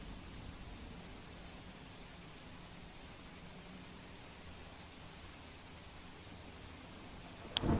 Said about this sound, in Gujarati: અત્યારે વરસાદ જે છે તે ધીમી ધારે થયો છે